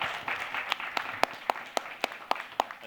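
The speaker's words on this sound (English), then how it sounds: "please, give him a round of applause for that" Light audience applause at a club lunch, fairly quiet with a handful of distinct, evenly spaced claps standing out from a soft patter of clapping.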